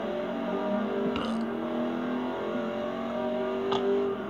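A race car engine in Forza Horizon 2 on the Xbox 360 drones steadily at high revs throughout, with small pitch shifts and a couple of faint clicks over the sustained engine tone.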